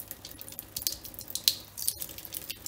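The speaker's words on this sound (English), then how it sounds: "I'm just agitating this water." Water being swirled and agitated across a telescope mirror during gentle cleaning, a continuous close sloshing and splashing with brief drips and trickles, fairly loud and steady with no talking.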